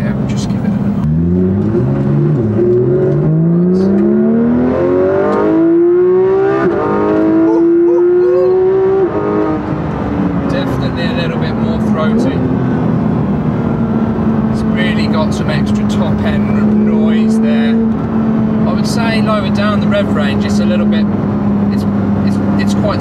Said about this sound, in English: A little bit more throaty on the downshifts as well.